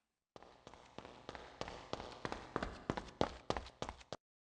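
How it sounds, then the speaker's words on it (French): A series of distinct footsteps, about a dozen, steady and slightly quickening, panning from left to right with a roomy reverberant echo and no talking. "J'ai également ajouté un effet de réverbération au bruit de pas"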